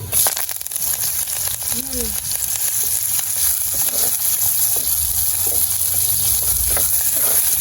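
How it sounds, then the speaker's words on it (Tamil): Onion, garlic, cumin and fenugreek fry in hot oil in a pan, a continuous sizzle with occasional stirring scrapes beneath someone talking. "வெங்காயம் உள்ளியும் வந்து பொரியணும் முழுசா"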